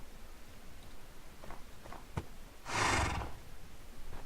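A horse whinnies once, a short loud neigh rising over a quiet outdoor background with a few faint thumps and shuffles.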